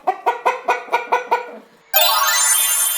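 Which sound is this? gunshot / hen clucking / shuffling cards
hen clucking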